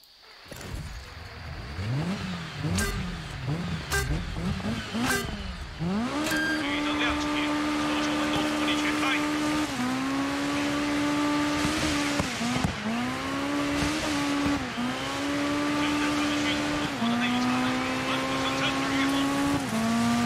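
A small Peugeot race car in DIRT 5 revs hard and shifts through gears, engine note rising and dropping with brief tire squeal, loud and close while players chat over it.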